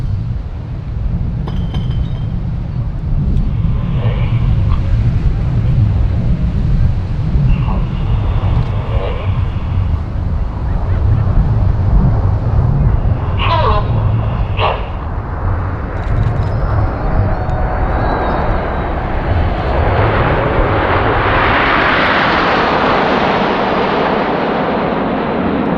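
Red Arrows jets fly a formation pass trailing coloured smoke at the Great Pacific Airshow 2019. A loud, sustained jet roar swells and fades over the whole stretch, with a commentator's voice and crowd noise on top.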